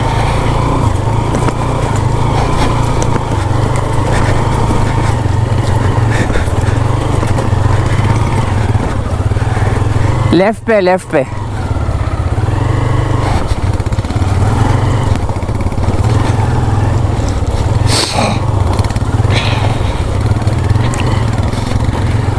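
Motorcycle rides over a rocky, stony track in a remote Balochistan valley, its engine droning loudly and steadily throughout with a brief jolt partway through; a rider's voice briefly calls out over the noise.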